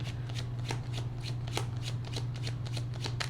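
A deck of tarot cards is riffle-shuffled up close in a quick, regular flurry of papery flicks over a low steady hum, with no talk.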